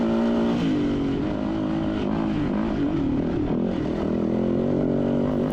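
Off-road motorcycle racing on a hare and hound course: one engine revs continuously up close, its pitch rising and falling with the throttle, loud and alone throughout.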